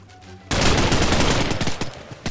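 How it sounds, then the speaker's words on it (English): Gunfire from a gun in Minecraft erupts after a short quiet start, a dense run of loud, rapid shots that continues without pause to the end, with no talking over it. "Wow, this gun is pretty awesome."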